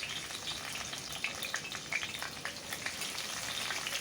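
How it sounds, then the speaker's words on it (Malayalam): Raisins and cashews fry in ghee, giving a soft, steady sizzle with light crackles and scattered small pops, close and unbroken, with no talking. "കുറച്ച് ഉണക്കമുന്തിരി കശുവണ്ടിയും കൂടി ഞാനിതിലേക്കിട്ട് വറുത്തെടുക്കുന്നുണ്ട്."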